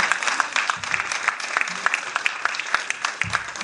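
A wedding congregation in Paris claps for the Lord, dense steady applause from a room full of people, close and continuous throughout.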